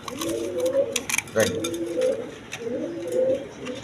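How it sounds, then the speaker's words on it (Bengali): A pair of black Gorra pigeons coo in repeated soft, rolling phrases close by, with faint background chatter and voices underneath. "এখানে এক পেয়ার গররা কবুতর আছে দেখেন ব্ল্যাক কালারের মধ্যে গররা কবুতর"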